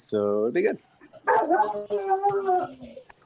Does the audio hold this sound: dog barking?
yes